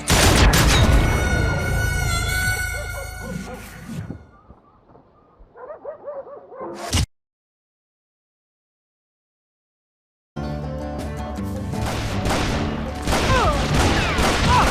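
Rapid gunfire in the Western shooter Call of Juarez Gunslinger crackles among dense game music and effects, fading out before a sharp single blast, then a few seconds of dead silence before the loud barrage resumes.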